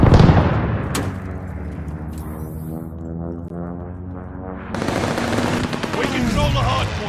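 Hostiles strafe with rapid machine-gun fire and explosions in a ranked online shooter, loud bursts at the start and again near the end around a tonal voiced callout in between.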